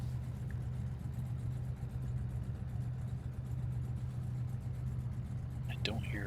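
A NASCAR stock car in the iRacing sim, a 1987 Legends Pontiac at Las Vegas, idles with a steady, quiet low engine hum and little change throughout; a voice is faintly present.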